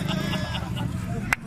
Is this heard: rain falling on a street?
no